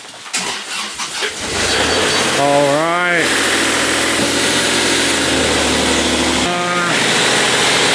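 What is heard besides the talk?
excavator diesel engine starting and idling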